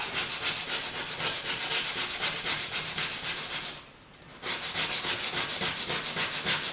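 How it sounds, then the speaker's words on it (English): Steady rhythmic scraping and rubbing of sandpaper worked back and forth on pottery trim tools, continuous and close, with a brief pause before resuming. "You're going to be sanding these tools down the way"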